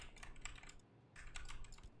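Computer keyboard keys pressed in quick, uneven bursts during a game session, with two short flurries of light clicking separated by a brief pause, quiet and close, with no talking.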